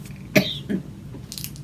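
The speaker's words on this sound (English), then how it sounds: "I don't cough until I start doing this." A single sharp cough, loud and close, followed by a softer throat-clearing burst, then quiet room tone with faint rustling, while someone stitches cross-stitch on fabric.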